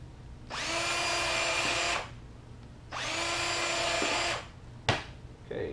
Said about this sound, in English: Drill me some holes here.